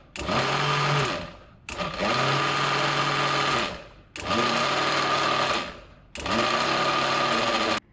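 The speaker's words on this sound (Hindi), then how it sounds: "इसीलिए मैंने आपको मिक्सी चला चला के भी सुनवाई है कि किस तरीके से आपको उसको चलाना है" A kitchen mixer grinder pulses four times as it grinds ingredients, half a batch at a time, into a fine powder: loud whirring bursts of one to two seconds, each winding down into a short pause.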